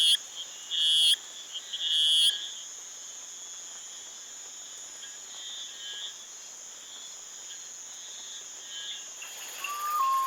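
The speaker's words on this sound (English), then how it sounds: "glass frogs may be harder to detect, but they too must find a mate, which is what this male frog is doing with its loud mating calls" A male glass frog in the Ecuadorian forest gives loud, high chirping mating calls, two bursts early on and another near the end, over a constant shrill drone of insects.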